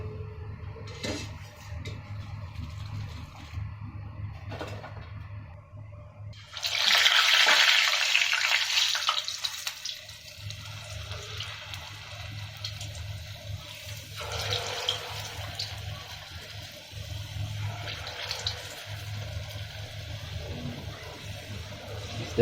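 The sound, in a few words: Luqaimat sweet dumplings frying in oil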